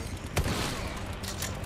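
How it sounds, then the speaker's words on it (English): A single shotgun blast goes off in the video game Resident Evil 4 Remake as one sharp boom that stands out from a steady, faint wash of game ambience. "We're gonna shoot him with our shotgun."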